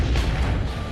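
A single loud, deep boom of an explosion in a test of whether household objects can shield against a blast. It is one short, close, heavy burst with no voices.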